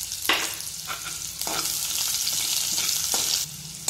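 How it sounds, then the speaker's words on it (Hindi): A medium sliced onion dropped into hot oil with cumin and mustard seeds, a loud close sizzle broken by repeated scraping stirs, with no talking. "अब हम इसमें डालेंगे एक स्लाइस किया ऑनियन मीडियम साइज का"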